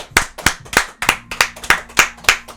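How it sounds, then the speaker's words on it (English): Steady hand clapping for a guest, loud and close, with about a dozen sharp claps in an even rhythm and a faint low tone underneath. "can we get a hand clap for the man that helped me bring this together?"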